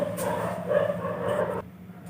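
Several dogs bark and yip nearby in a short, restless burst lasting under two seconds, then go quiet.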